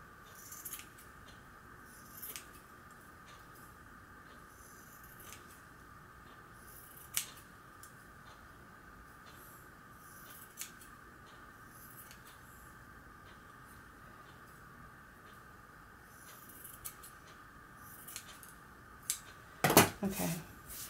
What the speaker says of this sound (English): I'm going to just trim a little bit.